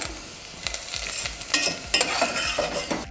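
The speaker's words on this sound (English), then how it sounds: "And now I'm going to put some tur dal." Tur dal tipped into a hot frying pan with golden-brown onions for sambar, sizzling loudly while a utensil stirs with repeated scraping strokes close by.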